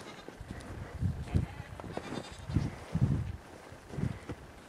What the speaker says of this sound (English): Here comes some more goats.